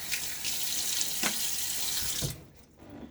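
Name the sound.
water running from tap while shaving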